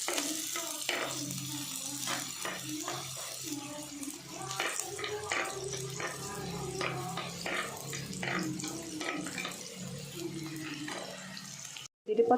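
A fish mixture for a roasted-coconut fish curry is poured into a cooking pot of fried onions, giving a continuous splashing, sizzling pour close by, with a brief clank at the end.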